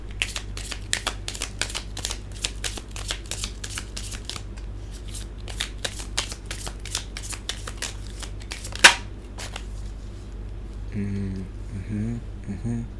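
Tarot cards being shuffled up close, producing a long run of rapid, crisp riffling clicks with a sharp snap near the end, followed by a few softer handling sounds.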